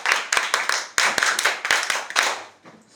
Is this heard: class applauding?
yes